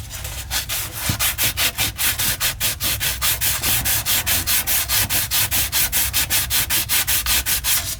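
Copper pipe for a tubular sink trap is sanded after its burr was removed, giving a loud, close, steady back-and-forth scraping in quick even strokes, about three per second, with no voices.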